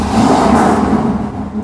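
A 1969 Pontiac Firebird engine runs loud and close, a steady revving roar that swells early and then eases slightly, with no voices over it.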